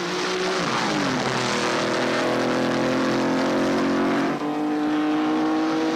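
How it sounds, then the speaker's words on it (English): Race cars at the 1960 New Zealand Grand Prix make a loud, continuous engine roar, their rising pitch sweeping upward as they pull away together at the start. "They're off. Moss, nearest to camera, gets away well and takes an early lead from Brabham and New Zealander Bruce McLaren."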